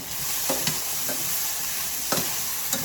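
Jackfruit and onions sizzle steadily in a hot pan while being tossed and stirred, with a few sharp clatters of the food and utensil standing out over the constant frying hiss.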